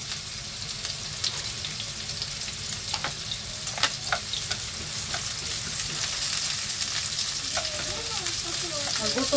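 Food frying in a pan with a continuous crackling sizzle close by, small pops and clinks scattered through it, and faint voices in the background.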